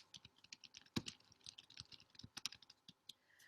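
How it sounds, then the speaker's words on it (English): Rapid, irregular clicks of a computer keyboard being typed on, close and fairly quiet, with no talking. "So I'll type that over here too."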